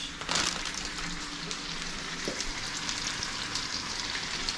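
Tocino sizzling and frying in a pan, a steady dense crackle with small pops throughout, close and continuous with no talking.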